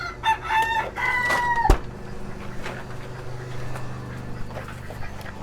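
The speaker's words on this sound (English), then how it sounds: "next up is the chickens" A rooster crows nearby while chickens cluck and squawk, followed by a sharp knock and quieter scattered clucking and rustling.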